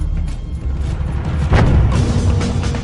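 A lateral blast from the May 18, 1980 eruption of Mount St. Helens, a stratovolcano: a loud, continuous deep rumble that swells into a heavier booming burst midway and keeps roaring to the end.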